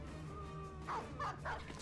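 A war dog in the turn-based game Battle Brothers gives three short barks in quick succession over a faint game music bed.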